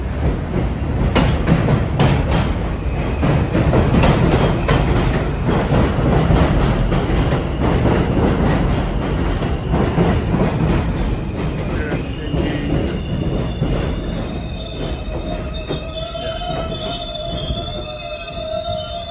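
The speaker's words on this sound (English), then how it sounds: "we're gonna get on the subway and film some of the subway ride home" Late-night New York City subway ride on the M train through Bushwick, Brooklyn, with loud continuous rumble, rattling and clatter of the cars, and high-pitched wheel squeals rising toward the end as the train rounds track or slows.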